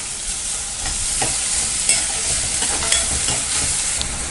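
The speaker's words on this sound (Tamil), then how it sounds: "பெரிய வெங்காயம் நல்லா வதக்கிக்கலாம்." Onions and carrots sautéing in a pan while a spoon stirs them, a constant close sizzle broken by soft scraping strokes and a few small clinks.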